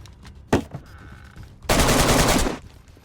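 DayZ in-game gunfire with an M200 sniper rifle and a PKP machine gun: a single sharp crack, a couple of smaller pops, then a loud sustained roaring burst of about a second that cuts off and gives way to quiet ambience.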